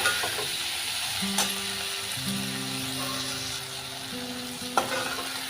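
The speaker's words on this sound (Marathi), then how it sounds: "आपण त्याच्यामध्ये टोमॅटो पण भाजून घेऊया." Tomatoes fry with browned onions in a pan, a continuous close sizzle under repeated scraping stirs, with a couple of sharp spoon taps against the metal.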